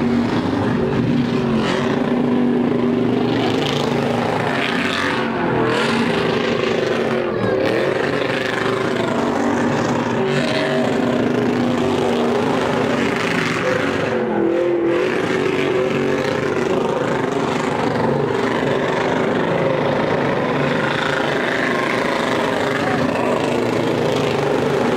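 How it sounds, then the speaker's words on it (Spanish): Truck tires burning out at the Truck Madness 2023 event, a loud continuous engine roar and tire noise that holds steady for the whole stretch, with crowd noise and voices mixed in. "Aquí estamos en la quemadera de llantas."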